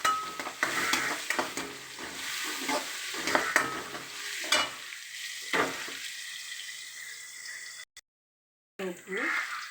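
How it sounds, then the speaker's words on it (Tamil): Onions frying with ginger garlic paste give a soft sizzle under repeated scraping strokes of a spatula, then cut out briefly before a short burst of running water. "இஞ்சி பூண்டு பேஸ்ட்டு போட்டு வதக்கிட்டு வெங்காயத்தை நல்லா"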